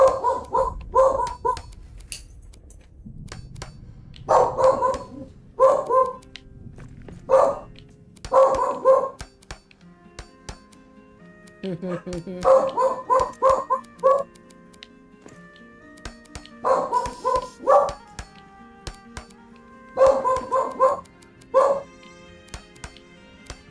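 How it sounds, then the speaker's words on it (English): A dog barks in repeated short bursts of two or three sharp woofs, separated by pauses, loud and close against a quiet room. "now you're barking"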